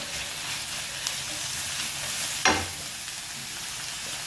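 Vegetables fry in a pan with a steady, close sizzle and hiss throughout, broken by one sharp scrape or stir midway.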